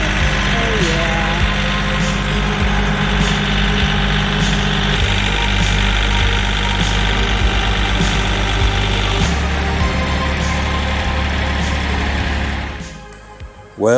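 A 5.3 liter LS3 V8 being swapped into a 1956 Ford Fairlane idles close by with a steady, rumbling low drone and faint ticking, then cuts off near the end.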